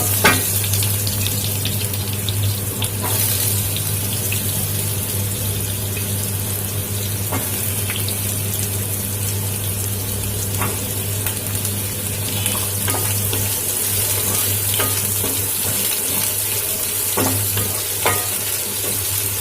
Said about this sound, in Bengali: এবার আমি আলুগুলো দিয়ে দেবো। আলুটাকে আমি লাল করে ভেজে নেব।